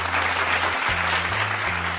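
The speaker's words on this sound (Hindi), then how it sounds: "जोरदार तालियों के साथ स्वागत करें।" Studio audience at a devotional Jain bhajan singing competition semi-final gives loud, steady applause welcoming a contestant, dense clapping running throughout with sustained musical tones underneath.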